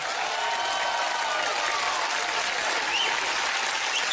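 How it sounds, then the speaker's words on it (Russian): Sustained applause from a large comedy-show audience in a packed hall, dense and steady throughout with no break. "Аплодисменты всем мужчинам и парням."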